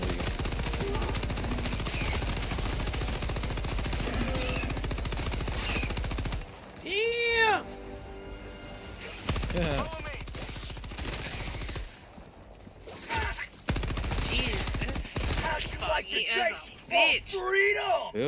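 Rapid machine gun bursts from the video game Helldivers 2, loud and close, repeating in stuttering runs alongside other gunfire and game effects, with someone talking over parts of it.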